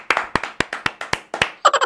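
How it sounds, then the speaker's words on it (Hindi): Hands clapping close by in a quick, steady rhythm of about a dozen sharp claps, ending in a brief cluster of brighter claps. "अरे वाह गोलू आएगा तो सभी लोग तालियां बजाएं"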